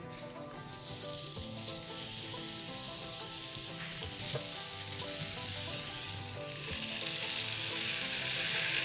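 Steady, loud sizzling of butter frying in a hot waffle iron while making yeasted Belgian waffles, a continuous crackling hiss with no voices.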